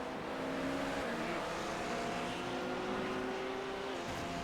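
A hypercar roars past in a racing video game at endurance-race pace, a steady droning engine whine with shifting pitch over constant track noise, fairly faint throughout.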